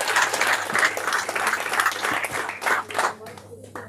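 Steady applause from a crowd at a press conference, many hands clapping together for a few seconds before tapering off, with a voice speaking French over it.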